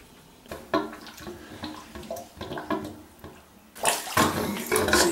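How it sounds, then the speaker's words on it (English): After a valve is opened on a drained-down boiler heating system, water rushes through the pipes mixed with a lot of air, sputtering and gurgling irregularly before surging into a louder, steady hiss of flow. "See here, we're getting some water flow through this now. A lot of air, obviously, because we had that thing drained down completely."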